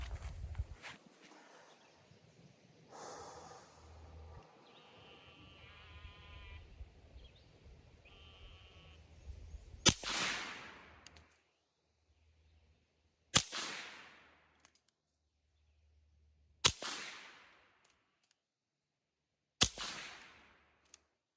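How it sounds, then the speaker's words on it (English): Four suppressed shots from a Ruger 57 with a threaded barrel and an EFK Fire Dragon suppressor, each a sharp, loud supersonic crack with a short decaying tail, spaced about three seconds apart after a stretch of quiet handling noise. "there is the supersonic crack that this round makes"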